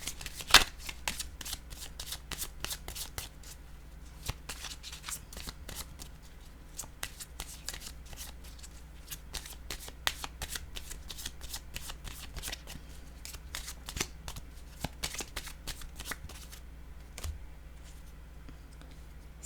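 Tarot cards being shuffled and drawn for a reading: a long run of close, soft riffling and flicking clicks at an irregular quick pace, faint and continuous, with no talking.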